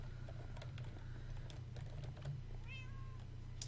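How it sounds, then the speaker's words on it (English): A Minecraft cat gives one short, clear meow near the end, rising then falling, heard over a steady low game hum with scattered faint clicks. "There's a cat in here"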